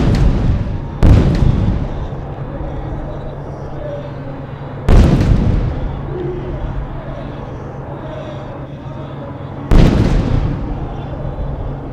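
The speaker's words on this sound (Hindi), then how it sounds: "आर्टिलरी फायर शुरू हो चुका है दुश्मन के इलाके में।" Bofors artillery guns fire during an Army Day parade, three heavy booms spaced a few seconds apart, each a sharp broadband blast that rolls off slowly, with a steady crowd murmur and voices underneath.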